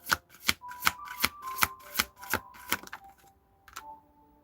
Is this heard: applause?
no